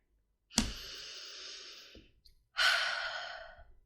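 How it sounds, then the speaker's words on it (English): Someone takes a slow deep breath in, then lets out a long exhale, heard close and clear in an otherwise quiet space. "take a deep breath"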